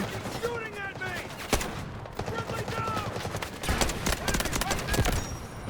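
Gunfire in the shooter Delta Force as a dense, continuous clatter of shots with a few sharp louder cracks, heard close under an ongoing busy game soundscape.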